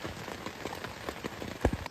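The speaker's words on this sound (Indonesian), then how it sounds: "setelah kita hampir 30 menit menerjang hujan dan tenda kita bocor dikit" Steady rain patters on a slightly leaking tent during a mountain camp, a dense continuous hiss of drops with a few heavier thumps near the end, fairly close and with no talking.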